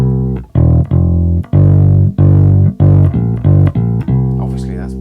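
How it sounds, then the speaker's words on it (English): Bass guitar plays a two-bar riff slowly, a run of loud, close, distinct plucked notes with short gaps between them, ending on a held note. "That 2-bar riff sounds like this."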